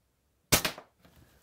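A single shot from a UTG Master Sniper airsoft rifle firing a 0.25 gram BB: one sharp, close crack followed by a faint, short rattle, with silence before it.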